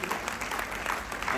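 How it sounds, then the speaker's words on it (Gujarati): A crowd at a community welcome event in Bardoli gives a guest a short burst of steady, moderately distant clapping, with a voice audible over it. "ચલો જોરદાર તાળીઓથી આપણે વધાવી લઈએ."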